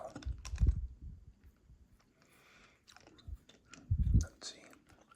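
Hard candy clacks and crunches in a mouth, picked up up close in short, irregular bursts, with two heavier crunches standing out.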